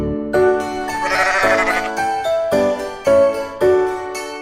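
Sheep bleating in a farm-animal nursery setting: a run of about six loud, close, wavering bleats with short pauses between them, heard alone without talk.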